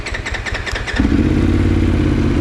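A big bike motorcycle engine that will not switch off runs steadily up close, a loud continuous low throb with a rougher clattering start before settling into a constant drone.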